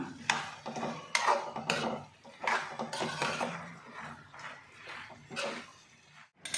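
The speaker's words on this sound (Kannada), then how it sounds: "ಈಗ ನಾನು ಒಂದು ಸರಿ ತಿರುವು ಕೊಡ್ತಾಯಿದ್ದೀನಿ" A spoon scrapes and knocks around a cooking pot as mango chitranna rice is stirred, an uneven series of close clinks and scrapes, with no voices.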